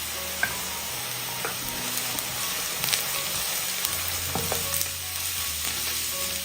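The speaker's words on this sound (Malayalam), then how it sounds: "ഈ സവാള എല്ലാം ഒന്ന് വയന്ന് വരണം, അതുവരെയും ഇളക്കി കൊടുക്കാം." Onions frying in a pan with torn curry leaves, a continuous close sizzle and crackle with occasional sharp pops and stirring clicks, no voices.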